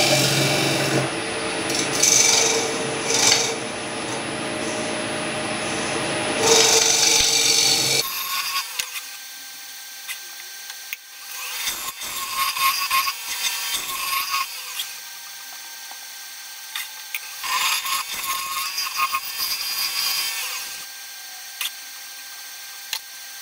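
The inside of a wood-turned Indian rosewood piece is sanded on the lathe, opening with a loud, steady rasping hiss that gives way to quieter rubbing and scattered clicks and knocks.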